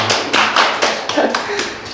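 Rhythmic group clapping at an academy's parent information session: about six even, regular claps in quick succession, fairly loud and close, with no talk over them.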